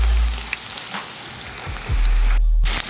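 Onion with garlic and ginger sautéing in a hot pan, a steady loud sizzle and crackle with a few clanks of stirring.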